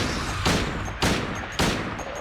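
Pistol fire in the Silent Hill 2 video game, three sharp, loud shots spaced roughly half a second apart, each cracking over a steady background rumble with no talk.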